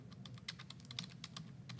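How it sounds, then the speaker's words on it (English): Rapid, uneven keystrokes on a computer keyboard, close and fairly quiet, in steady bursts with no one speaking. "Might be better off just typing it out"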